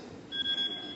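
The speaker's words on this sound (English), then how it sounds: "Oh, that's my alarm." An alarm goes off with a single short electronic tone. It is moderately loud against quiet room background and lasts about half a second.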